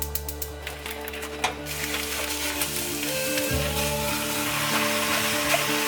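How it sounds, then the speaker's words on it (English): About four pounds of ground meat frying in a pot for chili, giving a steady dense sizzle with a few stirring clicks near the start, heard close with no talk. "While the old meats are cooking"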